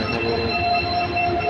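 A train at Kamalapur station in Dhaka, heard as a steady loud rumble with a thin high wheel squeal running through the moment, close by and alone with no talk.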